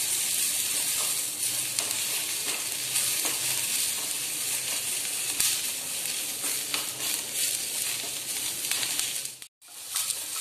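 Mushrooms frying in hot oil until crisp for a restaurant-style mushroom gravy, giving a steady, dense sizzle and crackle with occasional stirring, close and loud throughout, with a brief drop near the end.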